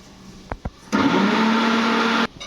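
A mixer grinder whirs loudly for just over a second while blending mint chutney with lime juice, preceded by two short knocks and ending abruptly.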